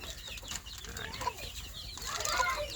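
Pet chickens clucking softly at a moderate distance, let out outdoors, scattered calls over a steady outdoor background hiss.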